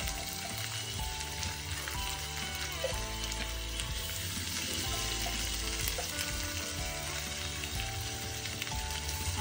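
Drained lentils frying with onions in a pan, a steady, moderately loud sizzle with faint stirring scrapes and no talk.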